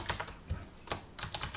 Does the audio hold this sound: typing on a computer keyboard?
yes